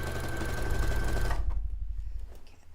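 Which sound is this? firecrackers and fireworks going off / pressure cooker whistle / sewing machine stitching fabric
sewing machine stitching fabric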